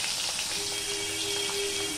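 Pomfret fish pieces shallow-frying slowly in hot oil, giving a steady, dense crackling sizzle that runs unbroken throughout, fairly close and even in loudness, with no talking.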